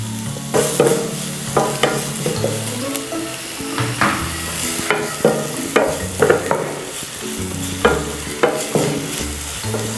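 Chopped onion frying in oil in a pan while being stirred, a steady sizzle broken by repeated scraping strokes of a utensil against the pan; no talking.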